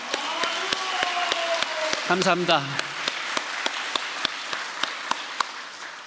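A church congregation at Cheonwon Palace claps in unison, a steady rhythmic beat of claps that continues while someone briefly speaks in Korean partway through.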